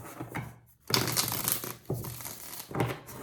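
Tarot cards being shuffled by hand, a papery crinkling and riffling that comes in several bursts with brief pauses between them, close and fairly quiet, with no voices.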